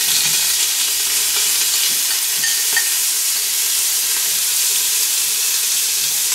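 Garlic, ginger and chopped green chilies frying in hot corn oil in a pan, a loud, steady, close sizzle and hiss that carries on without a break.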